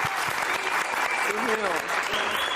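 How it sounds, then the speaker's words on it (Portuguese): A TV studio audience on a morning talk show breaks into sustained, dense applause, loud and close, with some voices cheering within it. "Isso merece uma salva de palmas!"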